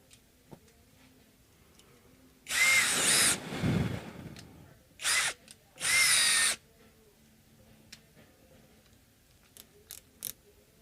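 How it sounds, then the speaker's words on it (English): A power drill loosening screws on a travel guitar whirs in three bursts, one long and two short, with quiet clicks and small taps in between. "Okay, I loosened them, so now I can just use the power tool."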